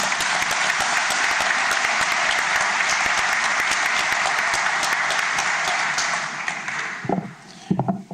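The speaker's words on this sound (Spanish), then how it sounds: "Recibamos pues con fuertes palmas" An audience at a formal book presentation breaks into sustained, loud applause, a dense clapping that holds steady for several seconds before thinning out to a few scattered claps at the end.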